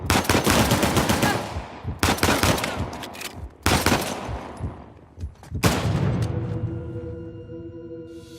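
Bursts of automatic gunfire crackle in rapid volleys in the video game Uncharted: The Lost Legacy, loud and close, separated by brief pauses, with a ringing ambient tail after the last burst.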